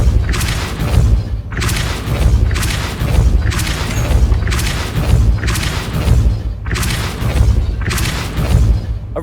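Depulso spells cast repeatedly in Hogwarts Legacy, six loud booming blasts in a steady rhythm, each with a heavy low thump and a bright crackling burst, with no gaps of silence between them.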